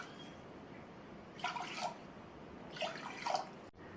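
Water poured onto soaked rice for curd rice, heard as two short splashing bursts, fairly soft and close, in a quiet kitchen.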